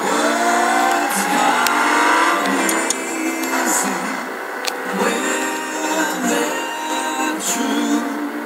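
A video game car revs and spins its tires in a burnout, a steady engine drone with tire screech layered on, loud and continuous, and a voice occasionally talks over it.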